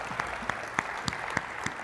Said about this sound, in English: let's give Linda a round of applause